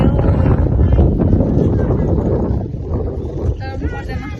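Strong wind outdoors buffets the microphone with a loud, low, rumbling roar that eases somewhat after the first few seconds.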